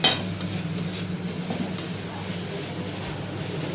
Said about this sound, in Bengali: এখন এই মশলাটা কষা করবো